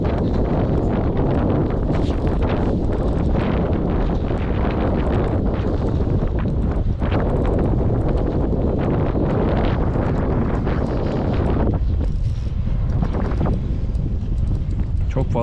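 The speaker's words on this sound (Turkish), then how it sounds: "Fazla rüzgar var." Strong wind batters the microphone on a boat while someone fishes with a light multi-hook line, making a constant heavy rumbling buffet with someone talking over it.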